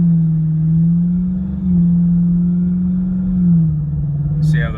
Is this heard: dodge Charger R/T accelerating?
yes